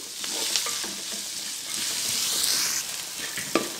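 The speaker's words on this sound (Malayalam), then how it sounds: "നമ്മുടെ സവാള നന്നായി വഴന്നിട്ടുണ്ട്." Onions sauté in an oiled pan for a Kerala-style soya chicken roast, giving a steady, close sizzle broken by occasional scraping stirs and a sharper clack near the end.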